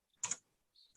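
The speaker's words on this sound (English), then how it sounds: "Spare my speed of typing" Quick typing on a computer keyboard makes a short cluster of soft clicks, then a few fainter taps, in a quiet room.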